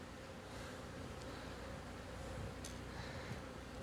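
Swarm of bees buzzing steadily around a rooftop beehive being cut out and removed, a faint continuous drone at some distance with no talking.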